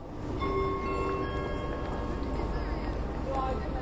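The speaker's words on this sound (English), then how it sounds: "here at the Eurostar station in King's Cross, the station's teeming with people from all over Europe." Busy Eurostar station at King's Cross in London, a dense, continuous crowd murmur with rumbling station noise and faint tonal chimes or announcements over it, steady and fairly loud throughout.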